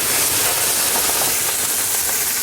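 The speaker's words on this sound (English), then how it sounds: "add a little bit of butter" Butter sizzles steadily in a hot pan with Greek ouzo shrimp, a continuous close, loud crackling hiss that holds evenly throughout with no talking.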